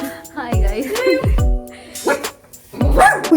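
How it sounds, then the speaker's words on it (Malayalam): A frightened dog barks close by, giving about five sharp barks in quick bursts with short pauses between them. "കണ്ടില്ലേ പട്ടി നമ്മളെ കണ്ട് പേടിച്ചു."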